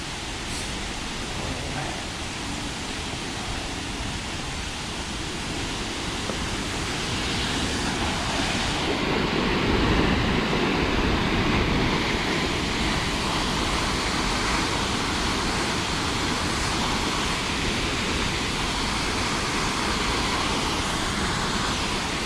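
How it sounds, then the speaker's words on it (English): Waterfalls at the Taulabe cave in Honduras pour in a constant broadband roar, steady and enveloping for over twenty seconds, swelling slightly louder midway. "we're gonna walk down to the overlook to see the waterfalls"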